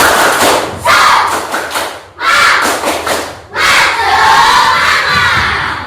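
Schoolchildren in a classroom doing the 'tepuk semangat' clapping chant as an ice-breaker, three loud bursts of rhythmic clapping and shouted chanting, separated by brief pauses, the last burst longest.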